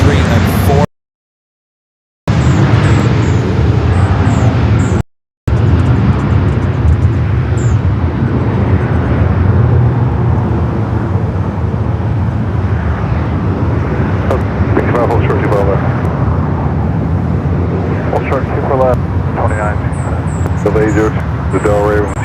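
A Virgin airliner taxis and turns between Terminals 3 and 4 at LAX, its steady broadband engine roar filling the scene with wind buffeting, while a voice talks over it.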